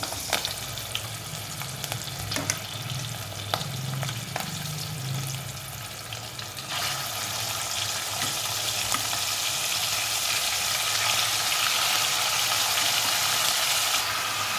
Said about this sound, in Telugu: ఒకసారి ఫ్రై అయ్యే వరకు కలుపుకుందామండి ఈ రొయ్యలు వేగేటప్పుడే మనం అల్లం వెల్లుల్లిపాయ పేస్ట్ కూడా యాడ్ చేసేసుకుందామండి